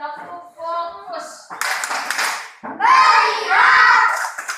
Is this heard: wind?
no